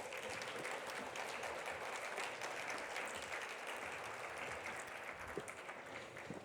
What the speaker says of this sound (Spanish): Les damos otro fuerte aplauso